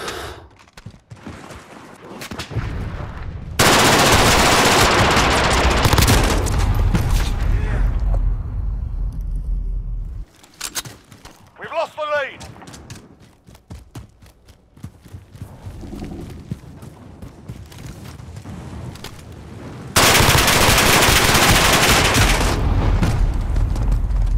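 Machine gun fire in Modern Warfare 2019 team deathmatch gameplay comes in loud, dense sustained bursts with quieter scattered shots and game noises between them, while voices call out over the action.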